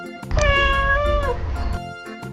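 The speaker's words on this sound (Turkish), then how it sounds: "Kediler miyav der." A single drawn-out cat meow, clear and close, rising then falling over about a second, with no one talking.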